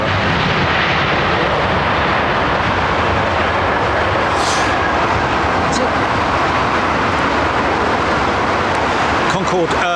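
An airliner with Pratt & Whitney engines arrives at London Heathrow, a loud, sustained roar of jet engines filling the whole span, broad and rumbling, with a brief higher whine partway through.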